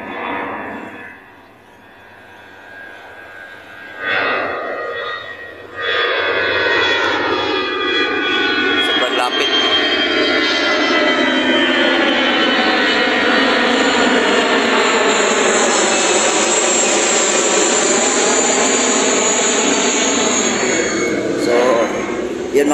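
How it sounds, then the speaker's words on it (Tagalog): An airplane passes low overhead during an early morning walk near a road construction site, its engine rising from a faint approach into a loud, sustained roar that fills most of the clip with a slow, sweeping whine. "So, kita po kayong mga aeroplano,"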